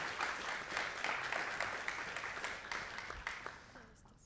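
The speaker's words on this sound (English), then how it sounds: "Would you please give him a round of applause?" Applause from the audience at a school district board meeting as an early childhood parent is honored, a full round of clapping that gradually thins and fades toward the end.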